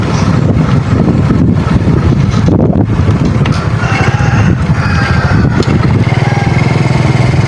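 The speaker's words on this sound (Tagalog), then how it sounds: "At saka malakas yung hangin" Strong wind roars and buffets the microphone continuously, mixed with a low engine drone, like riding a motorbike outdoors in gusty, rainy weather.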